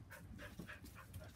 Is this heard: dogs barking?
yes